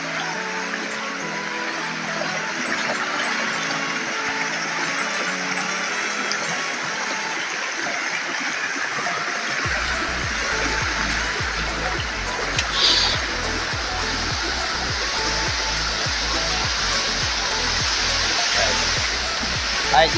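A waterfall roars as a dense, steady broadband rush that grows fuller and lower partway through, loud and close, with a voice talking faintly over it.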